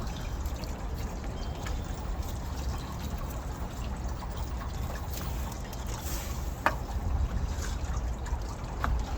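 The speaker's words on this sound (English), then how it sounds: "Then we'll use the rest of our apple juice. Put that in." Apple juice pours into the water pan of a smoker, where broken-up onions float, as a quiet, steady liquid trickle on a patio in Memphis, with faint background hum and no talking.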